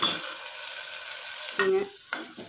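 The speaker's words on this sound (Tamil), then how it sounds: "இப்போ வந்து தக்காளி பழம், வெங்காயம், பூண்டு எல்லாம் நல்லா வதங்கிடுச்சுங்க" Tomato, onion and garlic sauté in a pan with a soft steady sizzle, followed by a couple of brief scraping stirs near the end, close and moderately loud.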